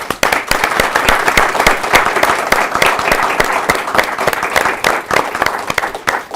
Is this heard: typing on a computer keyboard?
no